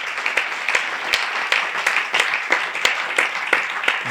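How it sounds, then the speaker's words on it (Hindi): Audience applause at an ISKCON Rohtak spiritual gathering, given for the temple's devotees: steady, dense clapping from a sizable crowd, sustained and even throughout with sharper individual claps popping out. "जोर से ताली बजाओ"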